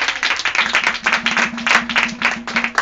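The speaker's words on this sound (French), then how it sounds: "Est-ce qu'on peut acclamer s'il vous plaît?" Congregation in a church breaking into sustained applause and clapping, dense and steady for the whole stretch, with a low sustained tone underneath.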